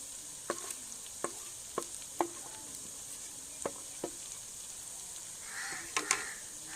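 Fried onions sizzle softly in a pan while a spoon scrapes and taps against it at irregular intervals, close by, with a brief louder stir near the end, while cooking chicken korma.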